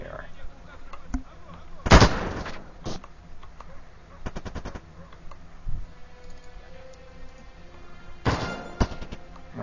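Gunfire and artillery area fire in the Theatre of War war strategy game, with loud rattling bursts around two seconds and again near the end, and quicker volleys between them over a steady battlefield rumble.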